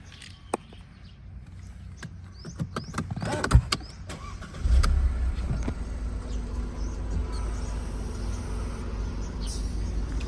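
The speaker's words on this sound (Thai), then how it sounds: "ฟังเสียงเครื่อง" A 2012 Mercedes-Benz SLK250 R172 engine turns over and settles into a steady, low idling rumble, with some light clicks and clatter earlier on.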